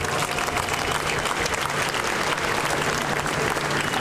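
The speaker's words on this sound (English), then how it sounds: "Give him a hand clap if you would" Steady, dense audience applause fills a labor community gathering in Allegheny County, a continuous wash of many hands clapping at even loudness throughout with no voices standing out.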